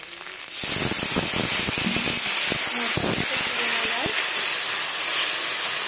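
A splash of water hits spice paste frying in a pan and sets off a loud, steady steaming hiss that runs unbroken, with a voice speaking faintly beneath it.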